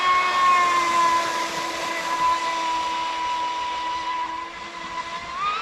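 An Oxidean Dominator RC boat with a three-blade prop runs at half throttle on a pond, giving a steady, high, whining motor drone with a constant pitch that holds for several seconds and then rises slightly at the end.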